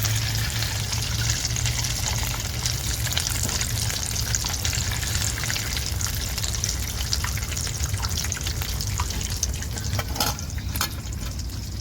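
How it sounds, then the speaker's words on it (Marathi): Cheese corn balls deep-frying in hot oil, a steady dense sizzle and bubbling that holds evenly throughout, with a few faint clinks near the end. "तर आता असेच मी हे दुसरे पण तळून घेते बॉल्स"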